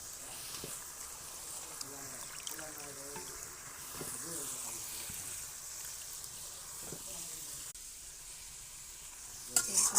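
Spices for fish stir-fry in a pan with a faint, continuous sizzle and light stirring. A person talks over it for part of the time.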